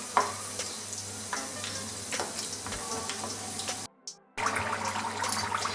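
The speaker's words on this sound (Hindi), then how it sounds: "अब एक एक करके इसके अंदर समोसा डालेंगे और फ्राई करेंगे।" Hot oil bubbles and sizzles steadily close by as chicken samosas deep fry, broken by a brief pause before the frying resumes.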